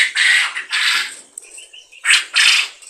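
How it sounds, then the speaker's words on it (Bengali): Male quail on a quail farm give loud, bursting calls at close range, four distinct bursts separated by short quiet gaps, with faint fluttering in between. "পাখিগুলো উঠছে কারণ ওরা ভয় পাচ্ছে কথা বলছি ডাকাডাকি করছে মেল পাখিগুলো"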